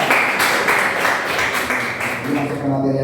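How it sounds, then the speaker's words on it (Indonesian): Classroom applause for a pupil, a short burst of many small hands clapping together, loud and close, fading as a voice starts speaking near the end. "Tepuk tangan untuk Jason."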